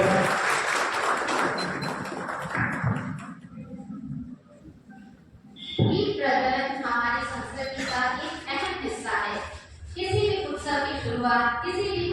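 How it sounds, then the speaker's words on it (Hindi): Audience applause welcoming guests onto the stage at a Lions Club honour ceremony in Sujangarh, a broad clapping wash in the opening seconds that fades into a quiet stretch before music and voices take over. "एक बार जोर से तालियों की गड़गड़ाहट से सभी का स्वागत है।"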